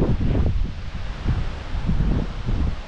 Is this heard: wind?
yes